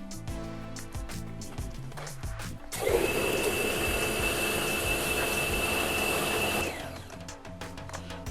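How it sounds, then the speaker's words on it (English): A pressure washer blasts into a bucket, whipping car shampoo into suds, a loud steady hiss with a high whine lasting about four seconds before cutting off, with quieter clatter before and after. "it's time for my favourite part of any shampoo process, and that is mixing it up with the pressure washer"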